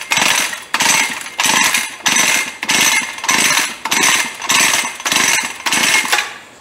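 A weedeater's small two-stroke engine, choke on, pull-started about eight times in a steady rhythm; each loud, close recoil pull gives a harsh churning burst that fails to catch, with no talking.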